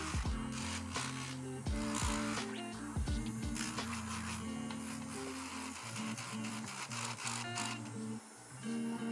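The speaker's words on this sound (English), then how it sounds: "Next I'm using my nail drill, and you can also use a regular nail file, but it does take a lot longer." An electric nail drill buffs the shine off fingernails during an at-home gel nail session, a steady whirring motor with a rapid, uneven grinding texture that rises and dips as it moves across each nail, with no talking.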